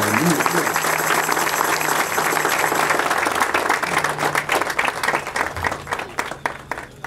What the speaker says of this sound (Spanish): le damos un fuerte aplauso a los hermanos que están el día de hoy